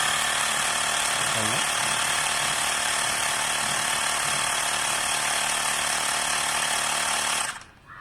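A Mi portable air compressor runs steadily as it inflates a tyre, a loud continuous buzzing drone for about seven seconds before it abruptly cuts off near the end.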